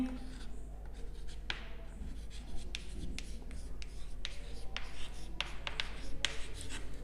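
Pen or pencil writing on paper during a class 9 geometry lesson on similar triangles, a steady scratchy scribbling in short strokes over low background hum, close by.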